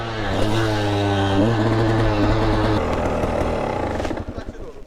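An enduro motorcycle engine runs with a strong, buzzing harmonic drone that holds steady, dips in pitch briefly and then cuts back to a rougher, lower idle. Someone speaks nearby partway through.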